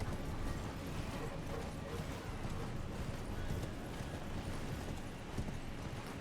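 Horse hooves gallop in the video game Elden Ring, a quick, continuous drumming of clip-clop beats at steady volume throughout.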